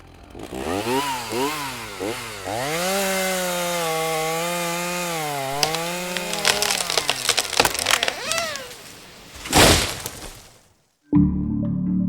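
A chainsaw cuts into an almendro tree in the Bolivian Amazon, its engine revving in a rising and falling whine before crackling and splintering wood, then a sudden cutoff and a thud.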